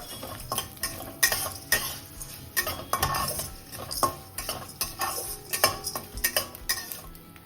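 Mustard and cumin seeds fry with urad and chana dal in a pan for coconut rice tempering, a light sizzle under frequent metallic clinks and scrapes of a spoon stirring.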